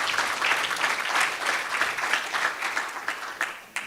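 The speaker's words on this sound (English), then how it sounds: "we want to applaud our panelists. A round of applause." An audience at a green-themed conference in Eswatini claps for a panel of speakers, a short burst of dense applause that thins out toward the end with a few scattered late claps.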